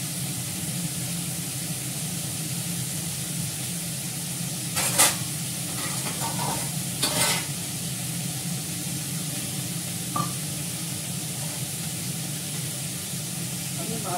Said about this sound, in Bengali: নুন দিয়ে ভালো করে ভেজে নেব